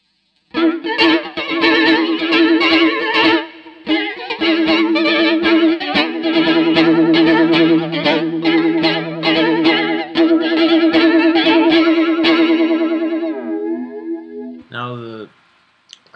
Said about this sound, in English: The resolution is all the way up, the manual is all the way down, and then everything else is at noon. It sounds like flanging.